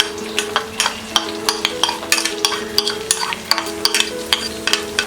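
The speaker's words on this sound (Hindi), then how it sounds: "अनियंस फ्राई हो गए। अब हम इसमें डालेंगे ये वाल या ब्लैक आइड स्प्राउटेड बीन्स" Sprouted field beans (val, black-eyed) tossed into fried onions and stirred: rapid, irregular scraping clinks of a spoon against the pan over a constant close frying sizzle.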